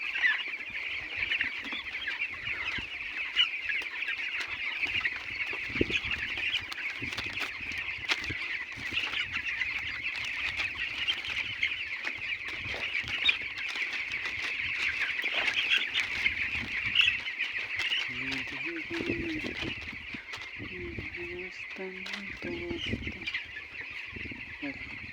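Chickens cluck sporadically around a yard on a cool, breezy day after rain, scattered calls over a constant high-pitched hiss with occasional light knocks and rustles.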